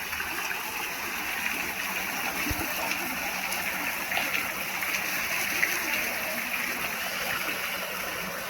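Steady rushing water flows continuously at a Shiva temple in Gopalpur, Balasore, Odisha, a broad, close stream-like wash with no break across the whole stretch.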